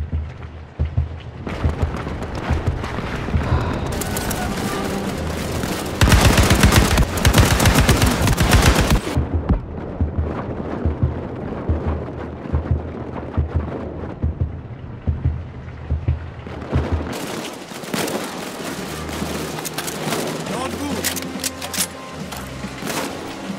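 Gunfire in the Land of War action shooter video game: loud, sustained bursts of rapid machine-gun fire with single shots, one especially dense barrage in the middle, continuing with no talk.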